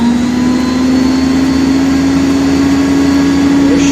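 Snow Joe ION+ 24-volt electric snow blower runs with a steady, loud motor whine and a constant tonal hum, close by and unchanging for a few seconds.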